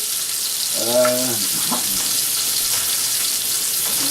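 A pork chop sizzles and crackles steadily in a hot pan, a bright, continuous fry that stays loud and close, with a brief voice-like tone near the start.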